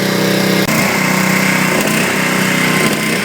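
An 8HP Briggs and Stratton Powermate 3250 generator runs close by, a loud, steady small-engine drone with a buzzing rasp and one brief stutter near the start.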